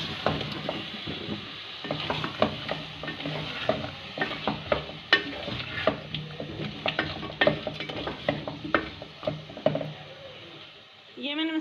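Potatoes and spinach with a spice mix stirred in a sizzling pan, with repeated irregular scrapes and clacks of a spoon over a steady frying hiss that fades near the end.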